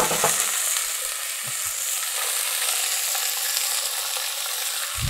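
Chicken fries in a pan for a maqluba dish with a steady, close hiss of sizzling oil, broken by a few soft stirring knocks and clatters.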